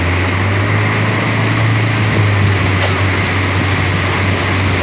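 A Mercury 115 outboard boat motor drones on without a break, a low constant hum with a rough, rumbling texture, close by and fairly loud, with no voices over it.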